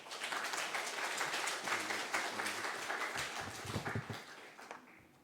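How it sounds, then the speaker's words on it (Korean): Steady applause from a church congregation, a dense wash of clapping that carries on throughout with a few louder claps near the end. "나오실 때에 힘차게 박수하도록 하겠습니다."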